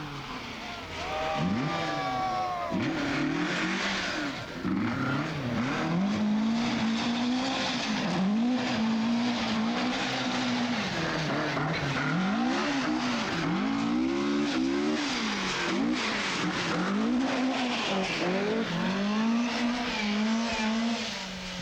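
A rally car drives hard through a slippery tarmac special stage, its engine rising and falling through repeated revving shifts and loud tyre squeal as it slides, close and sustained throughout.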